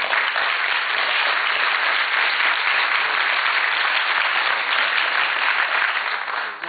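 An audience at a candidates forum applauds steadily, a dense, even wash of clapping that holds at a constant loudness throughout without any talk over it.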